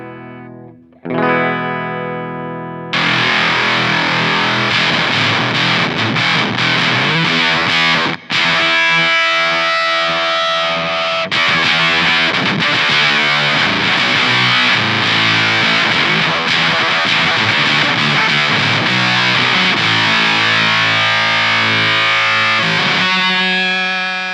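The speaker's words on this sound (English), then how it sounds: "There's a thwack that Octave Fuzz gives you." Heavily distorted electric guitar through an octave fuzz pedal (Pigtone/Musiclily or Joyo Voodoo Octave), thick octave fuzz tone, loud and sustained chords played after a brief clean opening note.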